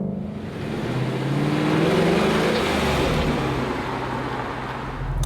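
A Ford Mustang Fastback V8 drives through corners. Its engine gives a loud, steady roar that swells and eases slightly as it accelerates, heard from inside the car with no talking.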